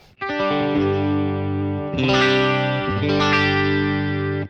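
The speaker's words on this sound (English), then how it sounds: "We're using the regular chorus." Sustained electric guitar chords played through the stock chorus effect of a Line 6 HX Effects unit, shimmering, loud and slightly distorted, changing chord twice.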